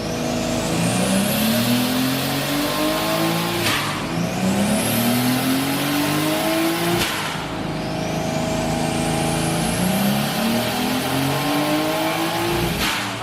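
A Toyota Aristo engine on a dyno at low boost on 93 octane revs up in three long pulls, each rising steadily in pitch to a loud peak before dropping off, with a continuous roar and no talking.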